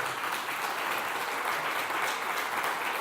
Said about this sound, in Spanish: Dale un aplauso al Señor por eso, por favor.